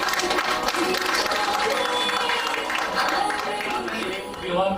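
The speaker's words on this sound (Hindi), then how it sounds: "अभिषेक को तालियां से जोरों से" A crowd claps for an engagement couple at an Indian engagement ceremony, a dense, sustained round of applause with voices mixed in.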